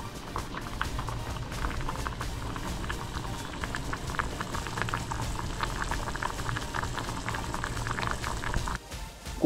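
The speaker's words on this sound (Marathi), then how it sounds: "चांगली उकळी येऊन दे." Moong dal khichdi bubbles in a pressure cooker pot, a close, steady boiling burble with constant popping bubbles for several seconds before a brief dip at the end.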